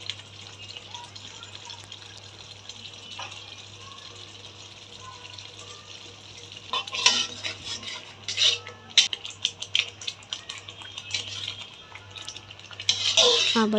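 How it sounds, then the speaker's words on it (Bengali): Spinach and meat are stirred in a cooking pot, quiet bubbling at first, then clattering spoon scrapes and knocks against the pot arrive in irregular bursts, growing louder toward the end. "আবার একটু নেড়ে চেড়ে দিলাম যাতে করে তলায় লেগে না যায়"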